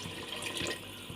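Water poured from a container into a pot of browned fried onions before pressure cooking, a steady close splashing rush of liquid lasting the whole moment with no talk.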